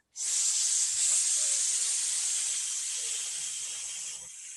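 A person exhales slowly through the teeth, imitating a snake with one long, steady, loud hiss that lasts about four seconds and stops abruptly.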